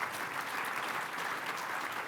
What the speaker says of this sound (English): Let's give a round of applause to our expert panel.